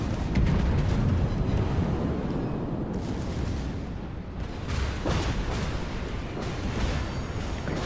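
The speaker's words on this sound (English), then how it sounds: "Secondaries are going off." Battleship secondary guns in World of Warships booming repeatedly over a dense rumbling battle bed, a series of loud sharp blasts in the latter half, no voices over them.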